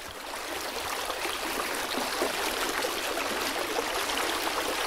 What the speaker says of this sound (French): Donc voilà le fameux ruisseau qui a donné son nom à la coopérative.